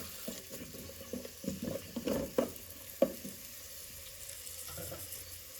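Ingredients for yellow rice are stirred in a hot pan, with soft scraping and clinks of a spoon over a faint steady sizzle, close and fairly quiet, with no talk.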